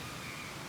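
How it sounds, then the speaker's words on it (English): A bird, probably a crow, gives a single short, harsh call outdoors at moderate volume against a steady background hiss. No one speaks. "Like right now I'm listening to some birds right now"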